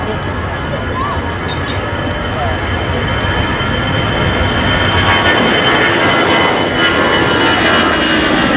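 A jet airliner takes off and rotates at Manchester Airport, with a loud, continuous engine roar heard from the nearby viewing area, steady and broadband throughout.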